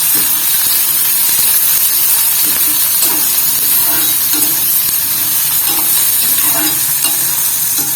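Sliced large onions fry loudly in a pan with a dense, continuous sizzle and hiss, broken by faint rhythmic stirring scrapes throughout.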